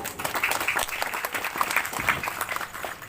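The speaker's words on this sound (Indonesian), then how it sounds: "Tepuk tangan untuk kepala desa kita." An audience at a youth Maulid religious gathering in Pematang Kuala applauds the village head, dense continuous clapping for about three seconds, fairly close and lively.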